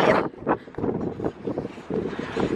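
Gusts of strong wind buffet the microphone outdoors in a rough, uneven roar, swelling and dropping in bursts over a low rumble, with no voices.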